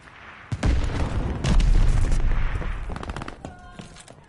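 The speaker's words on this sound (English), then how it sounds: "Glide bomb set to drop." Glide bomb exploding in Call of Duty Vanguard multiplayer, a sharp crack followed by a loud, sustained rumbling blast that slowly fades amid scattered gunfire.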